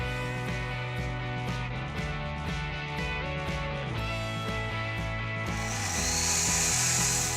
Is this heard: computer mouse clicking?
no